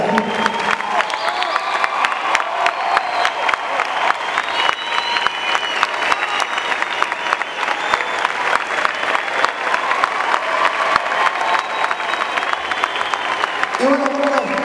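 Crowd at a rock concert applauding and cheering the band members, a loud, dense, sustained roar of clapping with a voice over a speaker coming through near the end.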